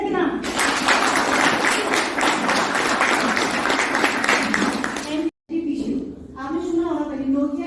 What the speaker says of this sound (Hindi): देखें एक जोरदार और शानदार ताली अपनी सेहत के नाम